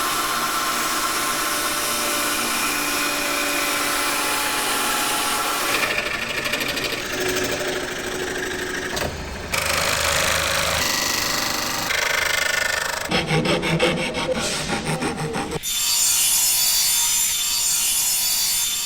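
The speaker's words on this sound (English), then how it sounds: "And then cut them using a jigsaw machine." A jigsaw cuts through curved, flexible plywood sheets shaped in a mold, buzzing and rasping in several bursts separated by short pauses and shifts in tone, fairly close and without speech.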